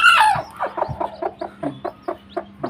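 A hen with newly hatched chicks gives a steady run of short clucks, about a dozen evenly spaced calls, close and fairly loud, after a brief high squawk at the start.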